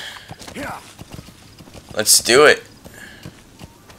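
Horse hooves clip-clop in the video game Metal Gear Solid V: The Phantom Pain, a short run of light steps early on, under a voice and game sounds.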